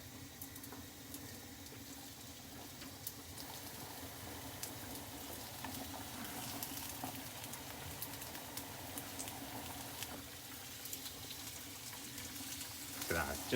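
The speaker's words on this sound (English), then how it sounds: "You can hear them sizzling." Seabream sizzling in a hot frying pan: a steady, dense crackle and hiss of fish frying in oil, continuous and fairly close, with faint voices now and then.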